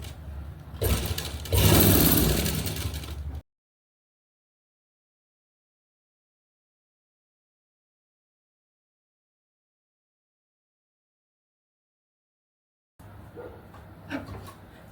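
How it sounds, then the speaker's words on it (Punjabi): A sewing machine stitches a salwar and its lining together in a close, loud whirring run lasting a few seconds, then stops; after a long silence a quieter mechanical hum returns. "ਇਹ ਤੋਂ ਬਾਅਦ ਆਪਾਂ ਇਹਦੀ ਸਿਲਾਈ ਲਗਾਉਨੇ ਆ"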